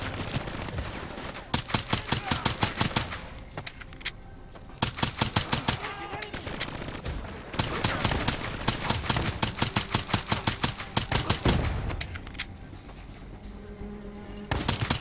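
Rapid bursts of automatic gunfire and single shots in the video game Black Ops 3, loud and close, coming in repeated volleys with brief pauses between them.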